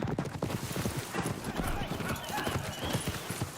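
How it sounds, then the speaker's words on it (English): Horse hooves clip-clop in a steady, brisk rhythm, close and continuous throughout, with people talking over them. "Wow, that's a nice horse."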